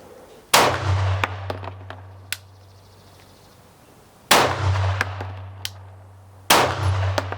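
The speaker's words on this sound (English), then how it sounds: "I'm bucking into that recoil on that first shot" Three loud pistol shots are fired at a target five yards away on a range, spaced a few seconds apart. Each shot gives a sharp crack followed by a ringing metallic clang from the target, with small clicks between the shots.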